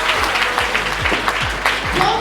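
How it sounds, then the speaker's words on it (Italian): Audience at a beauty pageant selection evening in a Castelfranco Veneto venue giving a big round of applause, clapping under loud pulsing dance music with a thumping beat. "Prima di iniziare un grande applauso all'Alias di Castelfranco"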